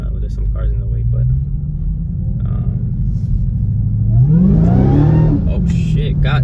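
A 2021 Dodge Charger Hellcat Widebody Redeye on Toyo R888R tires rumbles low, then its engine rises into a climbing supercharger whine under hard acceleration, loud and close from inside the car.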